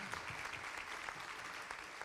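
Steady crowd clapping fills a graduation ceremony hall at the Whiddon Rogers Education Center, dense and continuous, with faint voices mixed under the applause.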